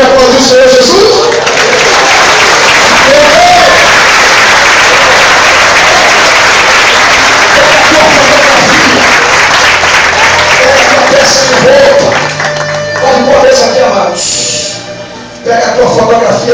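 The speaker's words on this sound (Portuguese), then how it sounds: "Você pode aplaudir o Senhor Jesus?" A congregation at a Portuguese-language church crusade service breaks into loud, sustained applause. Heavy, continuous clapping with crowd noise fills the space and dips briefly near the end before swelling again.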